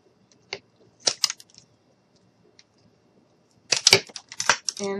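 Several sharp snips of clippers cutting craft sticks, a few isolated clicks early on, then a quick cluster of cuts close to the mic near the end.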